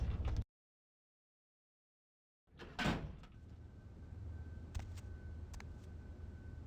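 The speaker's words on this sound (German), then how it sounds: "Mach die Tür auf, bitte." A door opening in the video game Vampire: The Masquerade - Bloodlines: after a stretch of silence, a single swelling creak and thump, then faint clicks over a low ambient room hum.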